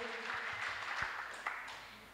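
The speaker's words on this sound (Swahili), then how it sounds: "Shangilia Bwana Yesu kwa makofi" A church congregation clapping in praise during a Swahili worship service, a steady, even wash of many hands heard at a moderate distance without pauses.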